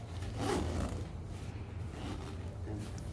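A zipper is run along the fabric of a Nuna Tavo car seat, a rasping zip close by that swells briefly then trails off, with a voice speaking over it.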